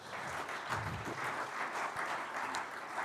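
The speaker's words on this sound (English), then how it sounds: "A round of applause for our signatories." Audience applause fills a business forum hall as the signatories of an agreement are honoured. The clapping is sustained, dense and fairly close, with no talk over it.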